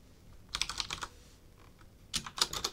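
Two short bursts of quick typing on a computer keyboard, close and fairly quiet, separated by a pause.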